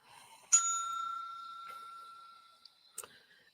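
A single bright bell ding rings out and lingers with a long fading tone, followed by a soft click near the end.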